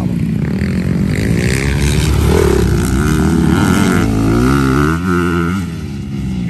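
Motorcycle engines roar loudly and continuously, revving and shifting pitch as they pass nearby on a track.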